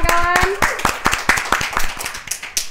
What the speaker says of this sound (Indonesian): Boleh tepuk tangannya kan?